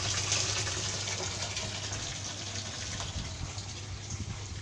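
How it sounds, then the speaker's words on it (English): Tetra pond pump forcing water out through an outlet pipe into a drum, a steady loud rushing gush of water that continues unbroken throughout, with no talking. "So there you go, this is how powerful the water is."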